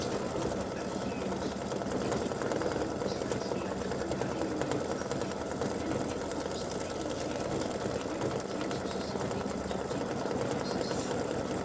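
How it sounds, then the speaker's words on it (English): An embroidery machine sews a dense satin stitch around a Santa legs and bow appliqué, a continuous rapid mechanical whirr held steadily throughout, close and even. "And it will do a satin stitch around that."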